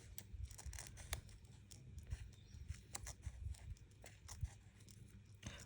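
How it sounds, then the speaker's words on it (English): Scissors fussy cutting around flowers on paper for a floral card, a quiet close series of irregular snipping clicks and small rustles, continuous and faint throughout. "Let your scissors do the work."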